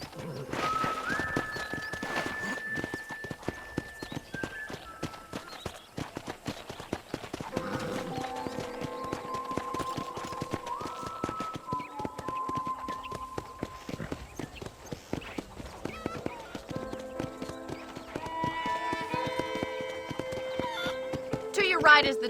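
Horse hooves clip-clop at a steady, even pace in Red Dead Redemption, a continuous ride over background music with a spoken voice now and then and an occasional snort or whinny.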